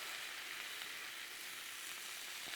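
Six strips of hardwood smoked bacon sizzling on a Blackstone griddle, a steady, even crackling hiss that stays quiet and continuous for a few seconds with no voices.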